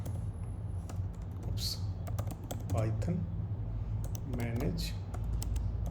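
Typing a Python migrate command for a Django project on a computer keyboard, a steady run of close key clicks under a voice talking.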